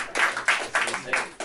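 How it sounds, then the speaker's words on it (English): A small audience claps at a magician's show, a brief patter of a few hands in uneven bursts, close and moderately loud. "Give them a big round of applause."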